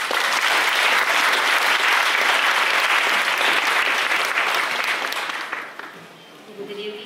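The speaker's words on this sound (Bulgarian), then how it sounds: "Моля за вашите аплодисменти за Елеонора Гаджева." Loud, sustained applause from an audience at a book presentation at the National Museum of Natural History of the Bulgarian Academy of Sciences, steady for about five seconds before fading out, with a few scattered claps at the end.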